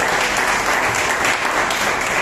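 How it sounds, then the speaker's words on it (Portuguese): A church congregation at a praise and worship service claps in praise of the Lord, a loud, continuous wall of many hands filling the hall. "E as palmas louvam o Senhor."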